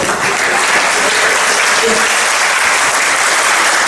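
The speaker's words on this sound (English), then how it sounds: "You need to clap as though you believe that." School speech-day audience applauding steadily and loudly throughout, a dense continuous wash of clapping with no pauses.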